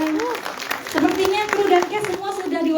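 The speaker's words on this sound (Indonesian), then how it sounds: "Kasih tepuk tangan untuk Teh Sarasehan." Audience applause at an Indonesian press event for the film 'Wasiat Warisan': scattered, fairly close hand claps rise and fall over about three seconds beneath a presenter speaking.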